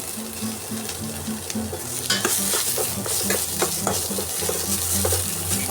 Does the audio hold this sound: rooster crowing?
no